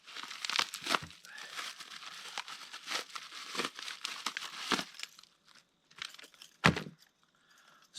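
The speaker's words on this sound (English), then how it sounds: "If I can get it unwrapped." Plastic packaging crinkles and tears as tree climbing tools, including spurs, are unwrapped: a steady run of close rustling and crackling with sharper rips, thinning into sparse crinkles with short pauses near the end.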